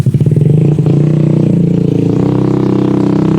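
A motorcycle travelling along a narrow rural path, its engine droning loud and steady throughout with a rough, pulsing low rumble and some clatter, no talking over it.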